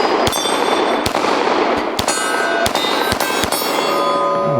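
A Glock-style pistol fires repeatedly at a steel plate target: about seven loud, sharp shots at uneven intervals, each with a ringing metallic ping from the plate and a short echo, and no speech.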